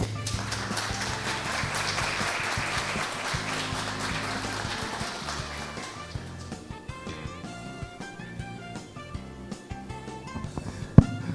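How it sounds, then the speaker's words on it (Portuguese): Listeners at a lecture on the petroleum industry in Brazil and the world applaud the professor, a moderate patter of clapping over tonal music for about six seconds, after which the music continues alone. "Eu pediria ao professor uma salva de palmas."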